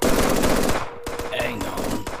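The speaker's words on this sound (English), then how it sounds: "We'll provide suppressing fire." Rapid automatic gunfire laying down suppressing fire in the Henry Stickmin Collection video game, a dense loud burst of shots that breaks off abruptly before scattered single reports and game effects follow.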